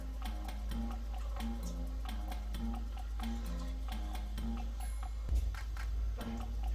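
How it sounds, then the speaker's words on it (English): A spoon stirs chipped ham barbecue sauce in a pot, clicking and scraping against the side in a steady, even rhythm over a low background hum, close and fairly quiet. "Now we want to give that a stir."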